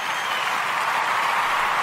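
Canned applause triggered from a soundboard: a steady, dense wash of clapping that holds at an even, fairly loud level for under two seconds, with no voices over it.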